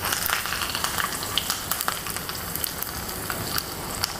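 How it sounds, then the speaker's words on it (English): Cumin seeds and curry leaves crackle and pop in hot oil for an aloo fry of sautéed spiced potatoes, a steady close sizzle with scattered sharp pops throughout. "So the slight crackling has already started."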